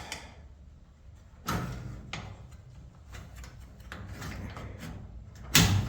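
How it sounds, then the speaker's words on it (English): A garage door roller is fed into its metal track, giving scattered clunks and scraping knocks, with a sharp bang near the start and another near the end, against a low background rumble in a garage. "Put the roller in the track."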